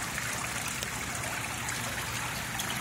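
Indoor waterfall in a lobby Asian garden trickles into a koi pond, a soft continuous splash and dribble of falling water, fairly quiet and even throughout, with no talking.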